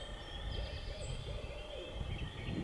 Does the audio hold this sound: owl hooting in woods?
yes